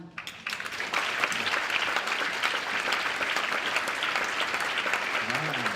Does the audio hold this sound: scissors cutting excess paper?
no